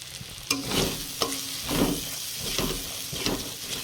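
Spiced prawn paste gravy with pointed gourd frying in a pan, a close hissing sizzle broken by several sharp spatula knocks and scraping stirs, with no voices.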